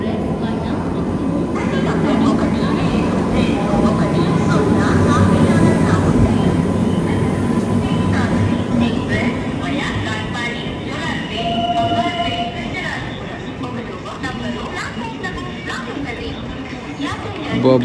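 A crowded train at a station platform on a Kadapa to Bangalore journey, with a steady rumbling rail hum, busy passenger chatter and voices throughout, and a distant announcement-like tone in the background.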